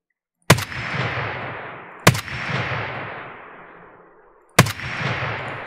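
Three loud, sharp rifle shots ring out in Escape from Tarkov on the Shoreline map, spaced a second or two apart, each cracking sharply and then echoing away in a long fading tail.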